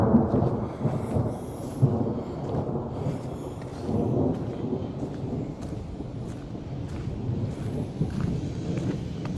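Thunder from a massive storm with heavy downpour and frequent lightning, deep rolling rumbles that swell and fade continuously over steady rain, loud and close with no voices.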